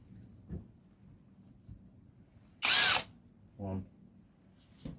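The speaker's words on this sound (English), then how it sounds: "I'm just going to drill a little marker hole" A power drill bores a small marker hole with a 3 mm bit while routing a recess for a Floyd Rose tremolo: one loud, close burst of whining drilling, then a shorter lower mechanical whir amid quiet handling sounds.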